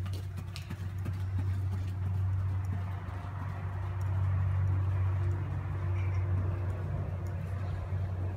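Horse hooves thud softly and rhythmically as a small horse is ridden in circles, a faint clip-clop behind a steady low engine-like hum and outdoor background noise.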